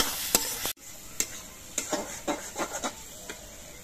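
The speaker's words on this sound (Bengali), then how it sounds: "মশলাগুলো আমি কিছুক্ষণ কষিয়ে নিয়েছি।" Cumin and chili powder spice paste cooking in a pan, with a faint sizzle under several separate scraping strokes of a spoon and one sharp clatter near the start.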